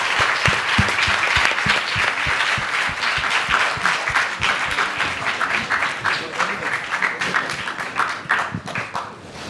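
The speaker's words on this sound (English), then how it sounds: "Big clap for them, guys." An audience at a Goa heritage quiz final applauds the quiz teams, sharp, dense claps filling the room at full strength, then thinning and tapering off toward the end.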